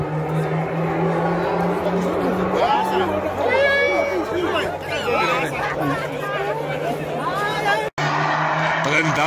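Car tyres squeal and skid during a launch at a track day, heard under loud, close crowd chatter and talking throughout, with a sudden brief cut near the end.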